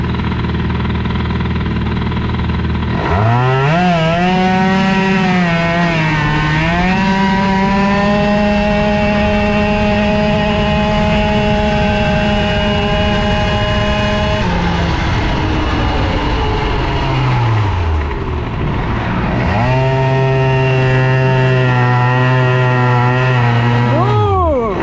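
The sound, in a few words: Bidalot RF 50 WR moped engine with 70cc exhaust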